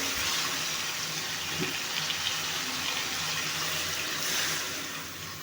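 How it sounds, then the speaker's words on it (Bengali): Water pours steadily into a pan of spiced, fried gutchi baim fish, a continuous rushing splash that tapers off near the end. "এখন দিয়ে দিব পরিমাণ মতো পানি"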